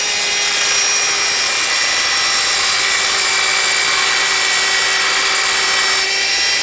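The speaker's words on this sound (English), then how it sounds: "I guess we go to drilling and tapping on it" A loud, steady high-pitched whine of a power drill running continuously at close range, unbroken for several seconds, drilling a motor part for tapping during an AC induction motor to permanent magnet generator conversion.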